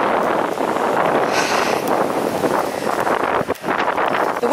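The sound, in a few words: wind blowing on a hill walk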